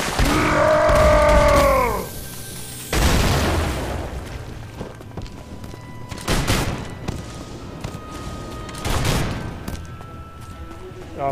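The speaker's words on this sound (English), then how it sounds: "They all exploded." Several explosions burst in the game Haunted Hell's Reach, one loud boom followed by a few more spaced blasts that fade out, with a brief electronic tone at the start.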